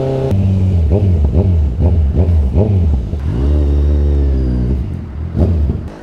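A Kawasaki Z1000 motorcycle rides through midday traffic, its engine revving in a series of rhythmic bursts before settling into a steady, loud drone and then rising once more.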